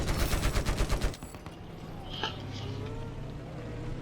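Large explosions from EFV projectiles in the combat game Battlefield 4: an opening second of rapid pounding blasts, then a lower rumbling, crackling aftermath with faint sharp pops, heard close and loud.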